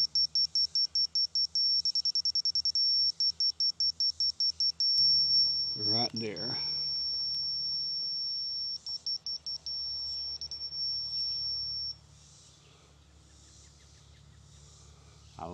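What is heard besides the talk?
receiver beeping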